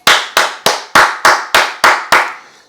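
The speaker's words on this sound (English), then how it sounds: "I'm going to give a hand clap for that one." A single person claps their hands eight times in an even, unhurried rhythm, each clap sharp and close and ringing briefly, with no other sounds around them.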